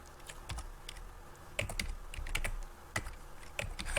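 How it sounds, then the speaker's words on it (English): Quiet clicks of typing on a computer keyboard, keystrokes in irregular bursts and single taps, close and soft. "I'm just typing dumb stuff"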